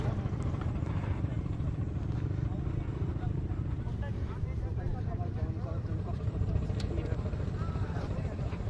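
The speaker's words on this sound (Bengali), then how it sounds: "এই যে নিচ দিয়ে মোটরসাইকেল যাচ্ছে, ওপর দিয়েও মোটরসাইকেল যাচ্ছে।" Motorcycles ride along a sandy river char on the Padma near Rajshahi, a steady engine drone with loud, continuous low rumble throughout, wind and outdoor noise mixed in, no clear separate passes.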